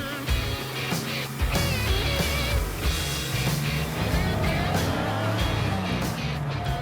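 A German sports car drives along a country road, its engine a steady throaty rumble that rises and falls as it revs, loud and close, with wind and road noise throughout.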